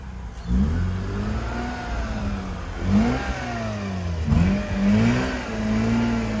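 A car engine revs hard in repeated bursts, its pitch rising and falling as the wheels spin for traction over bumpy ground, loud and close with no talk in the clip.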